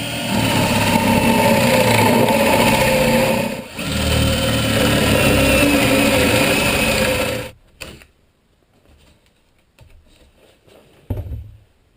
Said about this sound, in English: I'll drill a hole through here so I can run the wires through